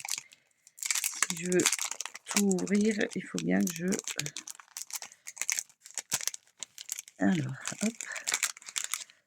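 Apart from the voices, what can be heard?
paper packaging crinkling while unwrapping craft supplies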